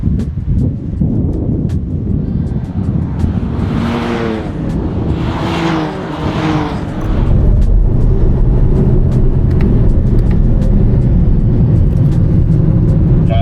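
A BMW 328i race car drives down a track straight at about 85 mph, its engine droning steadily inside the cabin with a couple of rising rev swells, then a loud, sustained roar and road rush, buffeted by wind noise.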